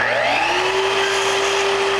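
Power saw making a precise cut in wood trim for a Victorian door head, a loud close motor whine that rises quickly and then holds a steady tone, without any talking.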